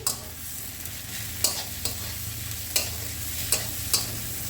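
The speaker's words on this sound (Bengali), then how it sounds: "এখন দিয়ে দেবো আদা রসুন পেস্টটা" Onion with a lightly ground ginger-garlic paste sizzles in a pan for palak paneer, a steady frying hiss broken by a few sharp scrapes of a spoon stirring the mixture.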